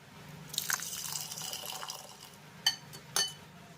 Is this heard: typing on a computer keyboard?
no